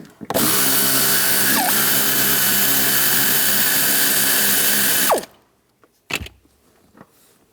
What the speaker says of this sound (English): I'm going to use a 15 millimeter socket. Take this nut off.